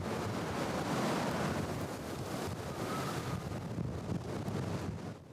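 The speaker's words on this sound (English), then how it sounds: "Wind gusts that reached up to 80 miles an hour." Strong wind gusts of up to 80 mph roar through a Southcentral Alaska storm with blowing snow, a loud, continuous buffeting rush that batters the microphone without letup.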